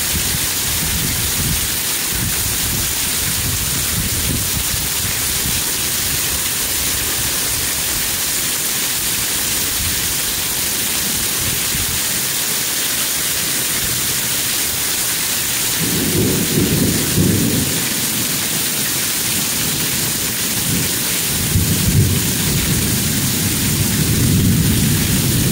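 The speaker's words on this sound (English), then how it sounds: "Man, this is a pretty heavy rain." Heavy rain pours steadily throughout during a thunderstorm in East Memphis, with low rumbles of thunder rolling in partway through and again near the end.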